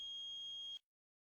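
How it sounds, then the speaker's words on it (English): A car air-conditioning refrigerant leak detector sounds its buzzer alarm as one steady, high electronic tone that cuts off abruptly after under a second, followed by silence. "If refrigerant leakage is detected, the red leak detection indicator lights will be on and the buzzer will alarm."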